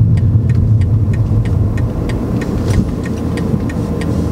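A car engine hums and rumbles steadily from inside the vehicle during a driving lesson, under a regular ticking, with no clear rise in revs.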